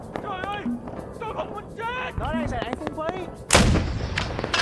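Artillery shells an LZ in the Vietnam War game SOG Prairie Fire, with one loud, close blast near the end, while players talk over radio chatter and distant rumbling fills the background.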